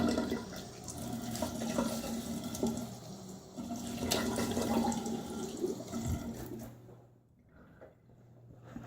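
A tap runs steadily while someone rinses their face during a wet shave, a close, even rush of water that cuts off near the end and leaves near-silence.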